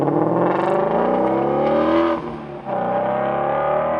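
Shelby GT350 Mustang flat-plane-crankshaft V8 exhaust revving up, its pitch climbing steadily, then briefly dipping before the loud, close engine note picks up again.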